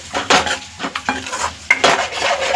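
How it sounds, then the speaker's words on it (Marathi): Spice masala sautéed in oil in a pan, a spoon scraping and stirring in uneven strokes against the metal, with a soft sizzle underneath and no talking. "ह्याला जरा 2 मिनिटं आपण तेल सुटेपर्यंत परतून घ्यायचं"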